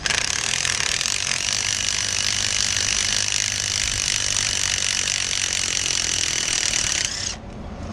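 A socket wrench runs continuously on a Trane blower assembly during a rebuild, giving a loud, steady mechanical rattle with no pauses that stops abruptly near the end.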